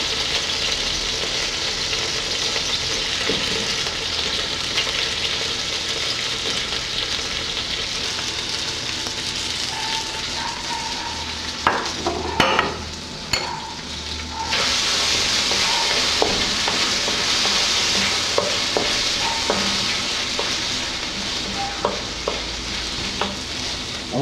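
Onions fry gently in a pan over low heat with a steady soft sizzle, while a utensil stirs and scrapes around the pan now and then, most noticeably partway through.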